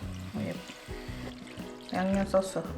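Japchae seasoning sauce poured into a pot with soaked glass noodles, a short liquid pour heard under a nearby speaking voice.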